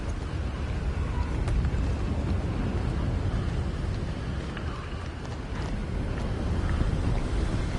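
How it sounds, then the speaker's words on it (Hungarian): Wind blows in a video game played on a PlayStation 5, a loud, steady, low rumbling gust that fills the whole stretch without a break. "Fúj a szél."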